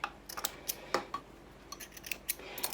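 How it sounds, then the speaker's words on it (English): Scissors snip sewing threads at a seam during garment sewing, a series of crisp, close metallic clicks spaced unevenly with short gaps between the cuts. "Snip the threads"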